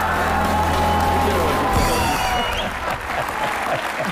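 Loud, sustained applause and cheering from a comedy show's studio audience, dense and continuous throughout, with sustained music-like tones beneath it early on.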